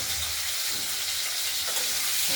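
Potatoes frying in oil with turmeric, a steady close crackling sizzle with a faint stir or two, continuous and even with no voices.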